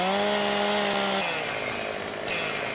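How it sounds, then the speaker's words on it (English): Chainsaw in the video game Farming Simulator 2015 cutting trees, a steady buzzing engine whine that drops in pitch partway through as it bites into wood, loud and close with no talking. "We got harvesters, chainsaws. We can cut down trees."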